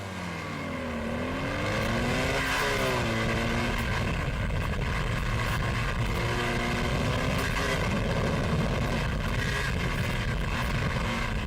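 A BMW HP2 motorcycle is heard onboard during a foggy night stage of a road rally, its engine droning loudly and continuously with rising and falling pitch as the rider works the throttle.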